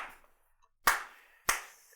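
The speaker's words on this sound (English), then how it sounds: "Not everyone's going to join me in a slow clap." A slow clap: two sharp, isolated hand claps spaced well apart, each ringing briefly in a quiet room.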